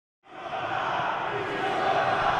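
A wrestling arena crowd roars in suddenly after a silent instant and holds a loud, dense, sustained wash of cheering and shouting to the end.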